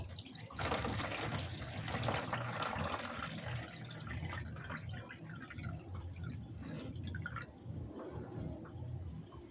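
Two litres of water poured from a jug into an old styrofoam box incubator, a continuous splashing trickle that is faint and steady throughout, with no talk.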